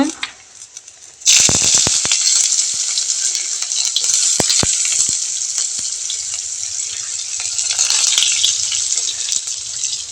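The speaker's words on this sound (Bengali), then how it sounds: "আর এখন ওই যে কালো জিরা ফোড়ন দিয়ে দিচ্ছি।" Black cumin seeds hit hot oil in a pan for fish-head curry and burst into a loud, bright, continuous sizzle with sharp crackles and spoon clinks, after a quieter opening.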